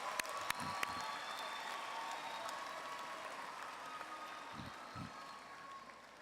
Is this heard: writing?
no